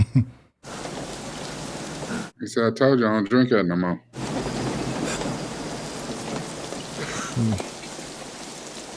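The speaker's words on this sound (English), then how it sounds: "The rain or is it a storm? It's coming." Steady heavy rain hissing with a low rumble of thunder, briefly interrupted by someone speaking before the downpour resumes.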